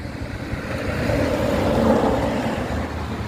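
A car passes on a road between Artvin and Hopa during a bicycle tour, a broad rumbling swell that rises to a peak and then fades, heard fairly close.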